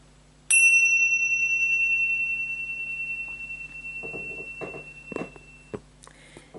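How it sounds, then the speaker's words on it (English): A mindfulness bell rings once with a bright strike, then a long, slowly fading tone that hangs over a quiet room; faint shuffling and soft knocks follow near the end. "I will ring the bells at the start and the end."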